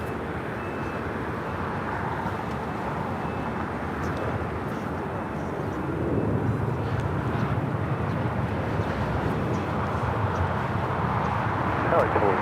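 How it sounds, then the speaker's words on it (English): An Austrian Airlines airliner arriving on the south side runway at Los Angeles International Airport, a broad continuous jet rumble that swells louder partway through, with distant outdoor airport ambience. "Austrian is our next arrival here on the south side. We'll be arriving on 25 at left."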